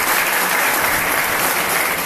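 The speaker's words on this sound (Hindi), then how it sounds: "एक स्वर में जोरदार तालियों से सबका स्वागत चाहता हूं।" Loud, dense applause from a large crowd, sustained evenly throughout with no pauses.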